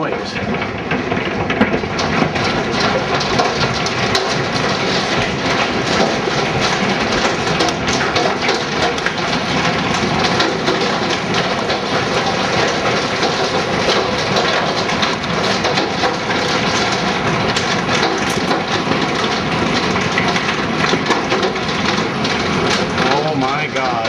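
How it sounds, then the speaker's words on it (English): A heavy hailstorm in Blaine, Minnesota, pounding down as a dense, loud, unbroken roar of hailstones that holds steady for the whole stretch. "That's what I call hail."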